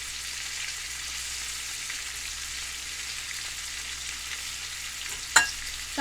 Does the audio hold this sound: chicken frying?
yes